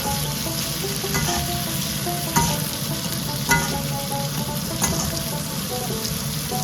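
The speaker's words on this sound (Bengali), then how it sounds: "ভালো করে নেড়ে নিচ্ছি।" Cut potatoes and cauliflower fry in hot oil with onion and chilli, giving a steady loud sizzle. Over it come occasional scraping knocks from a spatula being stirred through the pan.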